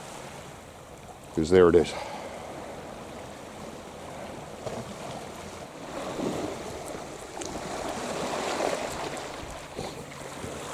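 Waves wash onto the shore at high tide in a soft, steady hiss that swells and recedes under wind noise, with one brief spoken phrase early on.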